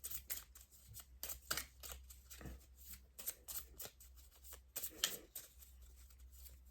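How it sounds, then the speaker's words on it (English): A small deck of affirmation cards shuffled by hand, a quick run of crisp riffling flicks and slaps in uneven bursts, close and fairly quiet, with a faint voice in places. "They're cute, these little cards, aren't they? Give them a juggle."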